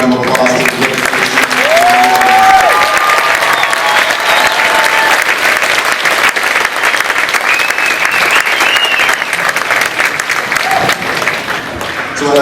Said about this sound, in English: if we can just give our district graduates a loud round of applause.